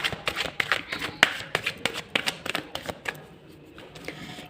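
A tarot card deck being shuffled close by: a rapid run of crisp riffling slaps and taps for about three seconds, then the fluttering cards trail off into quieter rustling.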